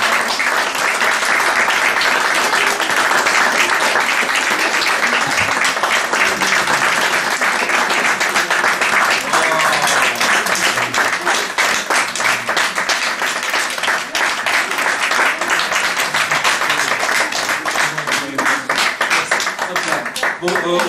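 A group of performers applauds themselves at the close of a raclette-themed stage show, a loud, dense wash of clapping that runs steadily for about twenty seconds with voices calling out underneath.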